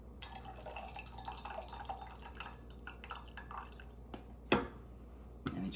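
Liquid trickles and drips steadily from a vessel, ending with a couple of louder splashes near the end.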